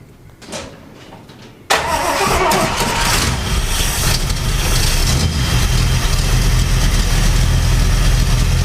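A 1940 Ford engine cranks over and catches after a quiet moment, then settles into a loud, steady running rumble that continues to the end.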